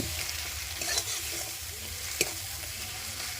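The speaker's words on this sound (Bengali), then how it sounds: "আর দেব লঙ্কার গুঁড়ো দিয়ে মশলাটাকে ভালো করে কষিয়ে নেব" Spice masala with salt, turmeric and chili powder is stirred and fried in hot oil for a Bengali tilapia curry with mustard, giving a steady close sizzle with a few brief clinks of the stirring spoon.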